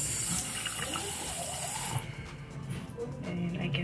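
A makeup brush is rinsed under a running bathroom tap, a close, loud rush of water that stops about halfway, followed by softer wet splashing and dripping.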